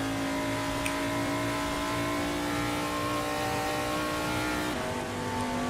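Engines of 1970s NASCAR race cars in the NASCAR70s racing game, a loud, sustained droning roar with a steady pitch that holds throughout, with no talking.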